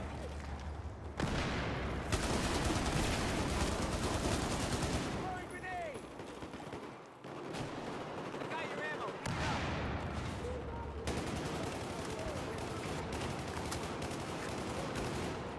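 Rapid bursts of RPK light machine gun fire in the PC shooter Battlefield 4 crackle densely and close, with a brief lull mid-clip, mixed with distant battle noise and occasional talk.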